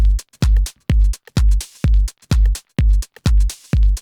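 A punchy minimal techno drum loop: booming kicks with crisp hi-hats and claps in a steady bouncing rhythm, loud and up close with no talking.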